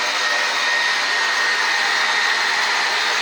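A hair dryer blows steadily while drying hair on the scalp, a constant loud whirring hiss with no pauses and no voices.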